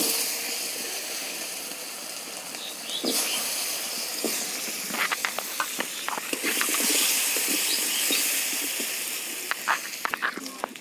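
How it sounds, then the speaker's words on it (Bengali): Potatoes fry in a pan of hot oil, a steady hiss with crackling pops that thicken toward the end, alone and fairly close. "এখন আমি আলুগুলো ভেজে নেব।"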